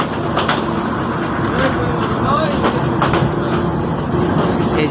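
The Chilmari commuter train rolls slowly on the Ramna Bazar to Kaunia line, a steady, loud rumble of wheels and carriages with faint rattling throughout.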